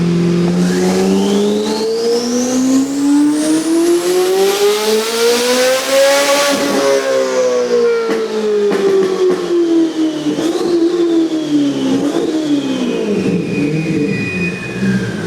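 A Corvette C8 Z06 tuned to well over a thousand horsepower revs hard on a dyno, its loud engine climbing steadily in pitch to a screaming peak, then easing back down with continued revving, close and alone without talk.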